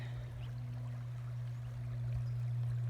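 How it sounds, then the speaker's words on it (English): Rock Creek running high after storms, a steady rushing flow of water heard close and constant, with a low hum underneath and no talk. "Let's see how high the creek is. Well, it's still running pretty high"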